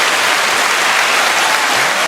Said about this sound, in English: Let's get a round of applause for my boy.